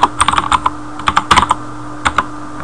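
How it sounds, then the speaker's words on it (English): Typing on a computer keyboard to enter a name into a search box, delivered as quick irregular clusters of close, crisp keystrokes with brief pauses between bursts, no voices present. "type the name into the box"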